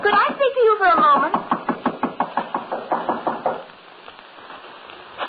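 A steady series of about fifteen firm knocks on a door sounds in an old radio drama. A voice speaks over the first knocks, and the rapping then carries on alone before fading into quiet.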